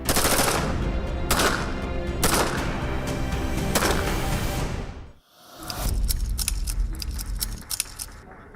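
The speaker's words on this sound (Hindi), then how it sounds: "एक गलती का मतलब AK-47 से निकली गोली का शिकार बन जाना।" Rapid automatic gunfire, presented as AK-47 fire in a police encounter with a gangster, loud bursts of dense shots that stop for a moment and then resume as sharper, more spaced cracks.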